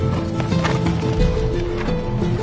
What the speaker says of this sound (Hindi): ये घोड़ा आपका है।